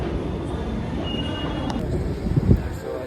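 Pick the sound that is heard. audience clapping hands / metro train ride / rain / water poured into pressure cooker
metro train ride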